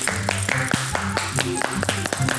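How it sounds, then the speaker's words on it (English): Rhythmic hand clapping in time with a line-dance song, sharp claps landing on the beat over loud music with a singing voice. "Everybody clap your hands"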